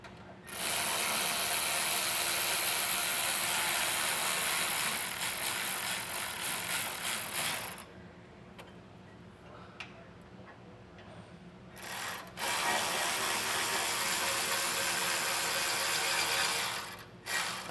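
A 5.5mm Allen key ratchets bolts snug on a Firestone air helper spring bracket on a 2024 Ford frame rail, giving a dense run of rapid clicking pawl sounds that pauses briefly midway, then resumes.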